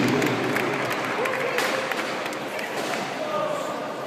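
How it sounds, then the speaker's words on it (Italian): Sustained applause from a crowd in a hall at the Italian ballroom dance championship finals in Rimini, steady broadband clapping for the whole stretch, with an announcer's voice carrying over it. "Forte applauso, signori, per le 6 coppie della Senior 2 classe A1, proprio finalista del campionato italiano"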